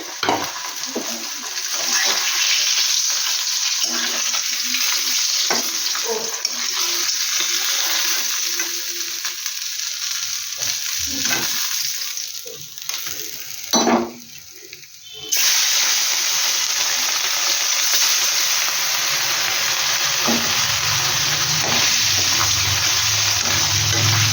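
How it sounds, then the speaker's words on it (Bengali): Fish rubbed with salt and turmeric fries in hot oil, a loud steady sizzle with stirring clatter. It cuts out briefly near the middle, then resumes as a strong, even hiss. "এই যে রান্নার শুরুতে এখানে করছি মাছ ভাজছি"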